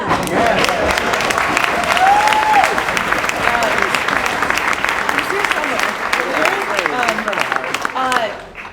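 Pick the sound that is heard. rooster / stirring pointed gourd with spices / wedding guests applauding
wedding guests applauding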